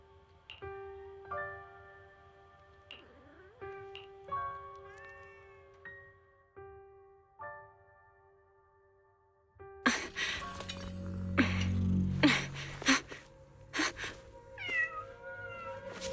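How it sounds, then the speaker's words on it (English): Cat meowing in the video game Zenless Zone Zero, a few clear tonal meows over soft game music, then a busier stretch of clinking and scuffling effects with more meows near the end. "Oh, there's a cat over there."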